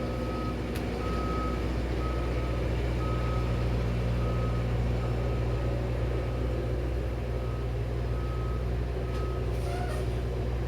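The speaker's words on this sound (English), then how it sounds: "Should we wait until the car is gone?" Steady truck reversing beeps repeat at an even rhythm over a constant low engine and traffic rumble, with a car passing close by in an outdoor street setting.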